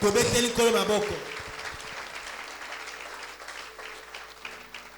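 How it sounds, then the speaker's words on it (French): A church congregation at a Christian ministry service bursts into loud, dense applause for about a second and a half, which then quickly fades into a quieter room with a steady sustained tone. "Acclamons le Seigneur."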